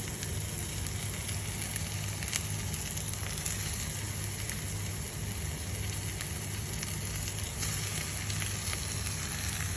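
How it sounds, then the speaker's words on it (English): Sardines and cooked onion with pieces of cinnamon frying in a pan, giving a loud, constant close sizzle and crackle throughout with no talk. "And now we are putting in the sardines."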